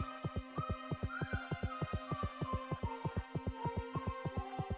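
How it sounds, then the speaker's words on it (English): A steady, throbbing heartbeat plays in the Chicken Run video game, a regular double-thump pulse repeating evenly throughout, under a faint humming tone. "that's a heartbeat that I'm hearing"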